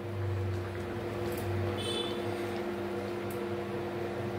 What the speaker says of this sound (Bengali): আমরা ওভেনটা বন্ধ করে দিচ্ছি